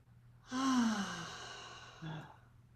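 One deep exhale during a guided breathing meditation flows out softly as a long, airy sigh with a light voiced tone, then trails off. A brief second breath sound follows near the end.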